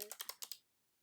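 Six quick keystrokes tapped on a computer keyboard in an even burst, crisp and close, followed by near silence.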